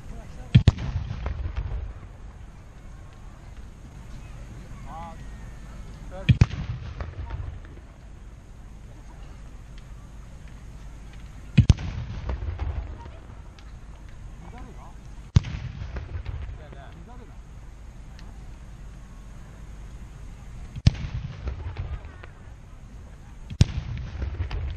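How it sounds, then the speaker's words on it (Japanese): Matchlock guns fired in volleys by a samurai gun troop at the Uesugi festival in Yonezawa, Japan, producing loud, booming reports every five or so seconds, each trailing into a rumbling echo over steady crowd and outdoor noise. "上杉鉄砲隊撃て。"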